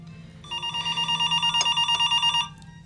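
A telephone bell rings in a rapid, continuous electric trill lasting about two seconds, bright and fairly loud, then stops abruptly with no talking.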